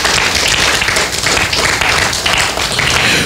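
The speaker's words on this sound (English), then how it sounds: "Clap your hands to the Lord." A church congregation claps hands together in a dense, steady burst of applause that fills the space, loud and continuous with no speech over it.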